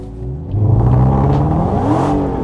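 A Dodge Demon 170 engine roars up to a loud rev with the gas pedal floored while the brake is held, its deep, rising drone swelling close and steady before easing off slightly.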